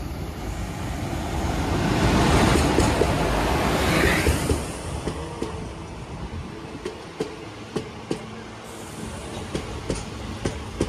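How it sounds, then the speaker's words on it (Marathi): A morning passenger train from Sawantwadi to Lokmanya Tilak Terminus rolls past loudly with a broad rumble, then settles into a steady rhythm of sharp wheel clicks over rail joints, with no voices. "7ची ट्रेन आहे सावंतवाडी लोकमान्य टिळक टर्मिनस."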